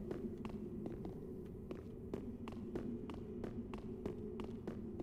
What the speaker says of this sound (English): I hear footsteps, though.